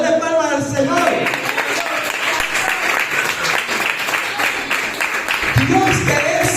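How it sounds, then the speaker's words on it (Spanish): A church congregation breaks into sustained applause, a dense wash of clapping that swells and holds for several seconds, with a voice heard at the start and again near the end. "Dele palmas al Señor"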